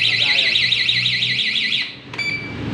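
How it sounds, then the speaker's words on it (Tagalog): A GB2 NWOW e-bike alarm blares a loud, warbling electronic siren that cycles rapidly, then cuts off abruptly partway through, followed by a brief click and quieter background noise. "Ayan, naka-activate na yung alarm mo."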